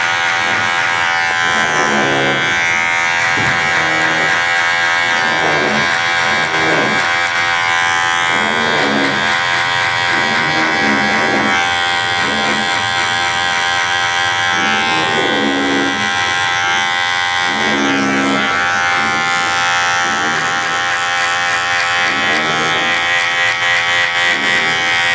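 Electric hair clipper fitted with a number 1 guard cutting hair during a military-style fade, a close, constant high buzz with repeated rhythmic dips in tone as passes move across the head.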